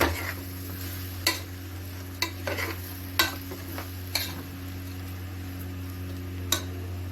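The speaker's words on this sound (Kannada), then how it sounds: "ಒಂದೇ ಒಂದು ಟೊಮೊಟೊ ಹಾಕ್ಕೊಂಡಿರೋದನ್ನು ಹಾಕೊಂಡು ಮತ್ತೆ ಫ್ರೈ ಮಾಡ್ಕೊಬೇಕು" A tomato fries in a pan for chicken donne biryani, a soft, steady sizzle over a low hum, punctuated by irregular clicks of a spoon stirring against the pan.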